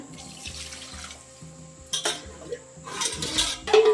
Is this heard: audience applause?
no